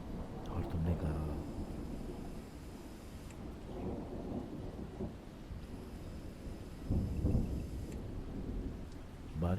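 Rolling thunder rumbles over a steady hiss of rain, loud low peaks near the start and again later, with a narrating voice speaking over the storm.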